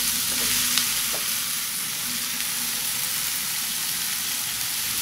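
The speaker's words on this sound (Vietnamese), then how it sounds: "Các bạn xào như thế này ha, khoảng chừng 5 phút nha các bạn" Vegetables and noodles, including mustard greens and flowering choy sum, stir-fry in a pan with a constant dense sizzle and hiss, close and even, with faint utensil scrapes and taps beneath.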